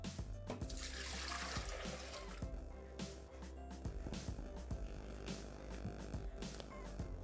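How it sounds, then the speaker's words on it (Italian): Rice milk pouring steadily into a Thermomix TM6 mixing jug for rice milk puddings, a continuous close liquid splash and trickle with no talk. "Mettiamo all'interno del boccale il latte di riso."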